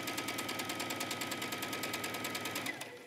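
A sewing machine runs a straight stitch through leggings fabric, joining a front piece to a pocket piece. It gives a fast, even mechanical whirr and tick up close, then slows and fades near the end.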